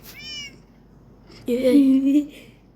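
A cat meows once, loud and close, after a brief faint cry; a quiet background hum fills the gaps.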